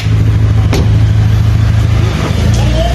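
A Honda VTEC car engine idles steadily with the air conditioning switched on after a timing belt replacement in a shop, a loud close low hum holding even throughout.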